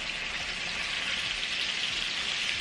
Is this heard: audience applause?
no